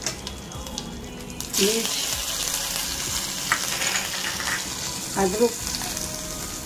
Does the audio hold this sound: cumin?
yes